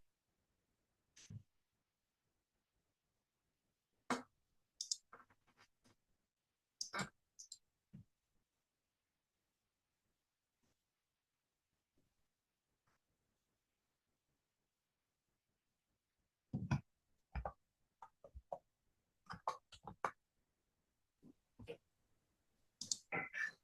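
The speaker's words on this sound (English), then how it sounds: "I'm typing it." A computer keyboard clicks in short, quiet, scattered bursts of keystrokes, separated by long silent pauses and growing busier toward the end.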